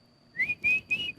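A person whistles three short rising tones in quick succession, imitating otter calls, clear and close with no other sound around.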